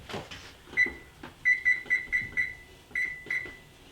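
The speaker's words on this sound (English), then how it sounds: "our timer just went off." A kitchen timer goes off while homemade pizza with mozzarella bakes in the oven, giving a string of about eight clear, evenly spaced high beeps. A short pause falls partway through the sequence.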